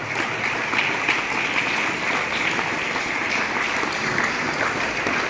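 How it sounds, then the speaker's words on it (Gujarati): Sustained applause from a seminar audience at a school in Botad keeps going as a thick, unbroken wash of clapping at a steady, fairly loud level, with no speech. "તાળીઓ આપણે અવિરત શરૂ રહેવી જોઈએ"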